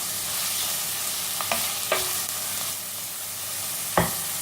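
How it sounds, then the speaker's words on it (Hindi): Two finely chopped onions frying in hot oil for a fish curry: a continuous close sizzle broken by a few sharp spoon scrapes and clinks against the pan. "तो अपने ऑनियन को हम हल्का सा भून लेते हैं।"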